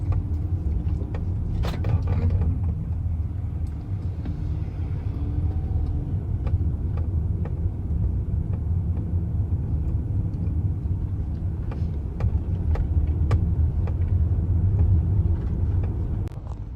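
Road traffic in Hong Kong heard from inside a vehicle: a steady low rumble of engines and road noise with occasional faint clicks and knocks, and no voices.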